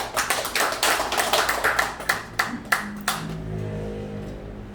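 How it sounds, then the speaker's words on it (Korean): Applause from an audience at a lecture event in Sinchon, Korea: scattered individual claps close by, a sparse crowd clapping for about three seconds before fading out, with a low steady hum underneath. "큰 박수 부탁드리겠습니다"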